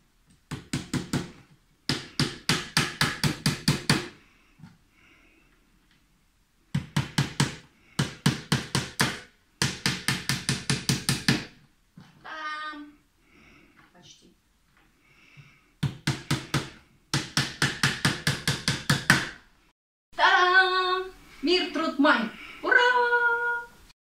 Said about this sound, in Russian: эту фанерку закладываем сюда. И попробуем вбить 6 гвоздей.